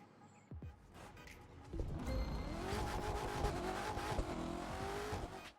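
Porsche 550 Spyder car in a driving video game, engine rising from quiet to a loud, steady revving roar with tire and road noise continuing throughout.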